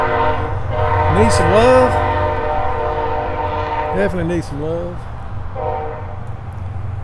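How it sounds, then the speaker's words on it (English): A train rolls past in a South Carolina town center with a loud, steady low rumble throughout, while someone talks over it and curving speech-like tones rise and fall above the noise. "that train's gone"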